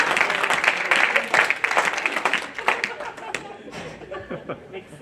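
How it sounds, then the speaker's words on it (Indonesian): A church congregation at a sermon claps and chuckles, with brief scattered applause and laughter up front that thins out over a few seconds. "Tepuk tangan dulu lah."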